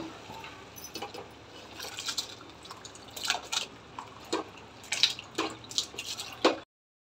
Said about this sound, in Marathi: पाण्याला छान उकळी आलेली आहे। आता आपण त्याच्यात तांदूळ टाकून घेऊया।